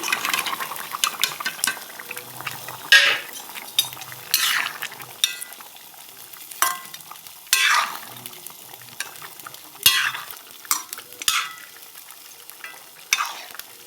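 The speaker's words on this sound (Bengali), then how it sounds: "এখন বন্ধুরা এই যে মাছ আর বেগুন এখন ঝোলে দিয়ে দিচ্ছি" Fish and eggplant going into a simmering curry in a pot, stirred repeatedly, with intermittent sizzling bursts and scraping strokes at close range, no talking.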